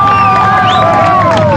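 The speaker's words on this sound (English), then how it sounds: "crowds of protesters let out a big cheer" Crowd of protesters outside Florida State Prison letting out a loud, sustained cheer with whoops and shouts after Ted Bundy's execution in the electric chair, a dense roar held throughout.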